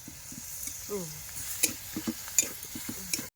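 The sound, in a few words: leafy greens frying in a thin wok over wood fire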